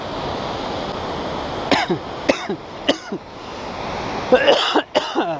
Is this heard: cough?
yes